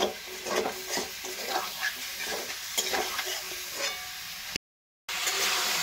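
Chicken pieces fry gently in oil over a low gas flame, a steady soft sizzle with light stirring scrapes and occasional bubbling crackle, close by, cutting out briefly near the end before resuming.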